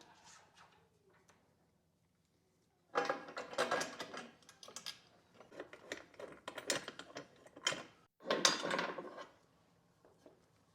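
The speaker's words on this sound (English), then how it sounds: "On the back side, put the washer, spin on the nylock nut, repeat." A nylock nut and washer are spun by hand onto a bolt during a skid plate install on a KTM 390 Adventure motorcycle, giving close, quiet bursts of ratcheting clicks and metallic rattles separated by brief pauses.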